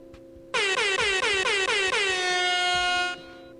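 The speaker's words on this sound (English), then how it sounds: "That's the saddest air horn I think I've ever heard." A single long air horn blast starts abruptly, fluttering in a few uneven pulses before holding steady for about two and a half seconds and then cutting off. It plays alone over a faint background hum.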